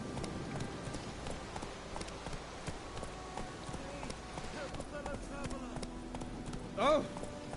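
Horse hooves clip-clop in a fast, steady galloping rhythm in a video game, faint and continuous beneath someone talking over them.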